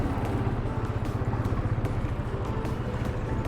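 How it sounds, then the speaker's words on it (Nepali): Motorcycle edging through a heavy traffic jam at Nagdhunga, its engine a continuous close low rumble with wind buffeting the microphone and no speech. "अलिकति ठाउँ हुने बित्तिकै गइहाल्यो नि बाइक त।"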